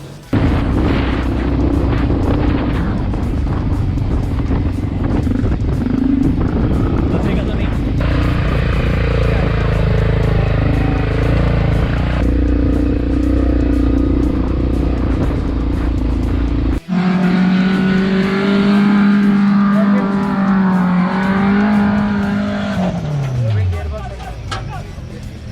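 An off-road vehicle at a rainforest challenge event revs hard while its wheels spin in sand, a loud sustained engine roar that rises and falls, with pitch swelling and dropping near the end.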